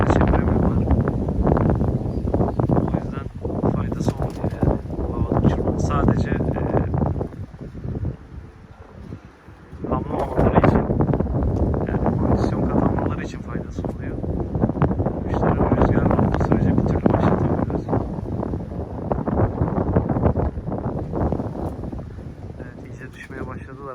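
Strong wind buffets an outdoor microphone on a windy morning of pigeon flying, a heavy low rumbling roar that surges and dips, easing briefly midway before returning just as hard.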